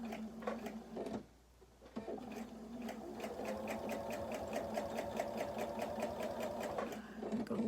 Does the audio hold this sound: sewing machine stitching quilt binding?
yes